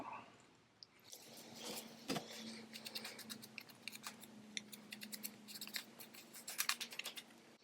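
Scissors snip through paper ephemera in a run of quick, close cuts, crisp and fairly quiet, with short pauses between bursts of snipping.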